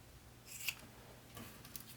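Scissors trim the fabric of a sewn bag near its D-rings, giving a few quiet close snips in near silence.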